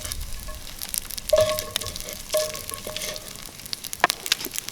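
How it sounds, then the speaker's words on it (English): Beef sirloin searing in a hot pan, a steady crackling sizzle with scattered sharp pops and a few utensil clinks, close and fairly loud with no talking. "I'm going to sear the beef."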